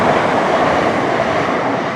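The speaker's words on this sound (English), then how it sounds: "Even got a train for you." A train passes close by at a 1920s–30s concrete Southern Railway station, heading for London. It makes a loud, continuous rumbling roar with a faint rattle of wheels on track, and no voices are heard.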